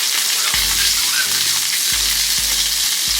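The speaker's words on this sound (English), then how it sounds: "So we're gonna let that sear." London broil steak tips searing in a hot pan: a close, continuous crackling sizzle with a few brief low humming bursts underneath.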